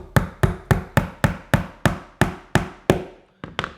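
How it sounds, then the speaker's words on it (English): A hammer taps a wooden dowel into the head block of a robot character building kit, about ten sharp evenly spaced knocks, close and loud, ending with two quicker light taps. "So I'm going to pop it over the hole like this,"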